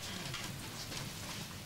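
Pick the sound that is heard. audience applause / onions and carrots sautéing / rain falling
rain falling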